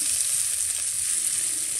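Onion frying in a pan gives a continuous, even sizzle with a bright hiss, steady and close for the short stretch, with no talking.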